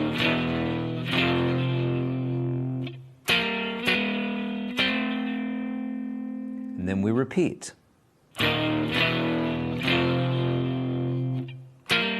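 An electric guitar plays a riff, with effects-laden, slightly distorted chords sustained and changing in sequence, a brief sliding bend in the middle, then the phrase repeats; someone speaks briefly during a pause.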